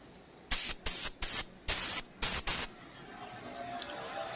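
A spray paint gun releases compressed air in six short, loud bursts of hiss with brief gaps between them, followed by a steadier low hiss with no speech.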